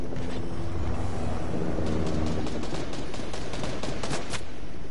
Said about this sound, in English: Should I shoot that guy?